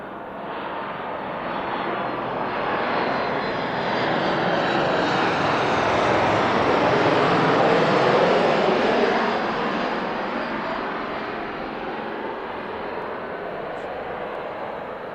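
A fixed-wing airplane landing at Manchester Airport, its engine roar swelling to a broad, steady rush and then slowly fading over about fifteen seconds, heard from a distance.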